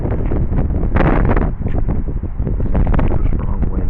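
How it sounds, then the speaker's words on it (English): Strong gusty wind buffeting the camera microphone outdoors, a loud continuous rumble with surging blasts and rustle, no talking. "The wind just started blowing out of nowhere."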